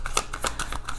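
Tarot cards being shuffled and drawn during a zodiac reading, a quick run of soft papery riffles and flicks in several short bursts, close and alone with no talking.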